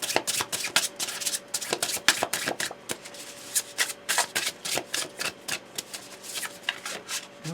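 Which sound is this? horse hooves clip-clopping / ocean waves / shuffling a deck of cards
shuffling a deck of cards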